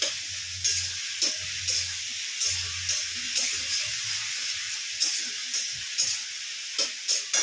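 A spice paste sizzles as it is slowly sautéed in a pan, a steady close hiss broken by regular scraping stirs and soft clinks of the spoon against the pan.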